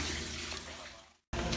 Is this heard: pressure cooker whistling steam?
no